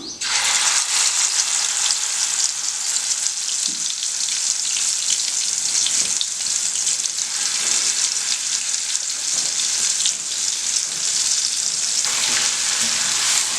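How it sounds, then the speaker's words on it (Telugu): Ginger garlic paste frying in a pan for mango pickle, a loud, steady, continuous sizzle with occasional stirring scrapes, close up and without any talk. "మనం ఇది అల్లం వెల్లుల్లి అనేది ఎక్కడ పచ్చి లేకుండా బాగా వేయించుకోవాలండి"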